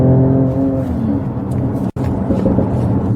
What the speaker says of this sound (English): Oh, the backfires have started.